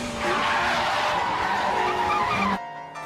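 Rear tires of a Toyota 86 squeal and skid as they lose grip, a loud, sustained screech with engine noise beneath it that cuts off abruptly near the end.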